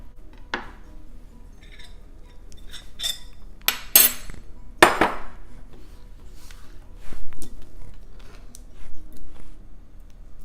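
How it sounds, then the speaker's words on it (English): A knife finely chopping tomatoes on a cutting board, giving scattered sharp clicks and taps, some louder clustered strikes near the middle, then softer irregular cutting, close and without talk. "I'm gonna finely chop the tomatoes"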